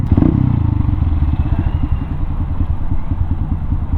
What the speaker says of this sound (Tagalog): Pumalo na naman ng 100 yung motor ko